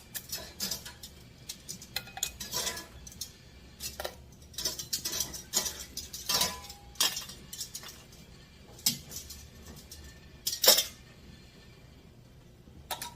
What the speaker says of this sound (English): I am going to screw on my jars